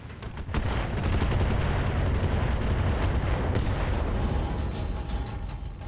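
Sustained anti-aircraft gunfire aimed at a stealth bomber in a video game, a loud continuous roar of rapid shots with sharp reports in the first half second.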